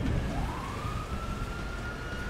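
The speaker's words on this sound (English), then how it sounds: "Sirens." A police siren in the video game GTA V wails in a single rising sweep, loud and steady over a rumbling background, with no talk.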